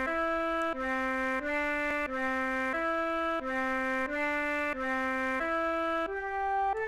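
A doubled verse part from a song: loud, sustained, distorted chords change in a steady, even rhythm about every second, with no break between them.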